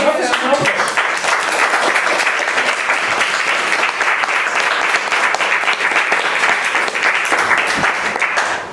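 Attendees at the close of a workshop on pitching science stories to foreign media clap loudly and continuously for several seconds, a dense nearby patter with voices speaking over it before it drops off at the end.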